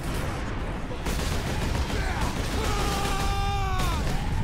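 Battlefield gunfire in Space Marine, a steady roar of distant shooting and explosions with some whistling tones, while someone talks over the din.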